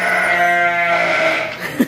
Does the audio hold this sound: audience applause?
no